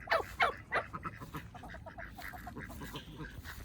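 Domestic ducks on a cold-weather homestead give three loud, close honking quacks at the start, then a softer, steady chatter of calls and background noise continues for the rest of the stretch.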